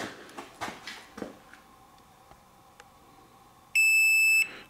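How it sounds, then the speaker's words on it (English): A digital weighing scale gives one sustained electronic beep near the end, after a few faint handling clicks and knocks in an otherwise quiet room. "Try to hold her up till it beeps."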